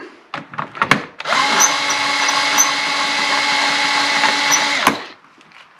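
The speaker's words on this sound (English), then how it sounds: "this little Ryobi, it's a little on the slow side, but I think with brass, slower is probably better than too fast" Small Ryobi cordless drill spinning a brass .45 Schofield case during case prep: a few clicks and taps, then a sustained whining motor drone for about four seconds that stops abruptly, close up.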